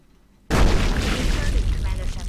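Gunfire erupts abruptly in the Mass Effect video game, a loud, dense barrage of blasts that carries on without a break, mixed with voices.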